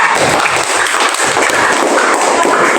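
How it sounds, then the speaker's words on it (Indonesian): Classroom applause for a student group presenting their poster, a steady wash of many hands clapping close by for the whole stretch, with no talk over it. "ya tepuk tangan untuk kelompok 3"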